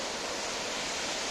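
A large waterfall called Sweet Fall roars as a steady, dense broadband rush, constant and fairly loud throughout with no voices.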